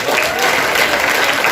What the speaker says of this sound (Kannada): ಎಲ್ಲರೂ ಕೂಡ ಒಂದ್ಸರಿ ಜೋರಾಗಿ ಚಪ್ಪಾಳೆ